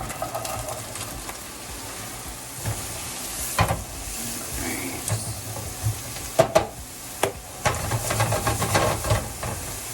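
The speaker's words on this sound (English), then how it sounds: "So now into our same skillet, we're going to go ahead and add our onions." Onions sauté in the same skillet used for peanut butter noodles, giving a steady hissing sizzle broken by several loud scraping stirs and clatters of a utensil against the pan, with no talking.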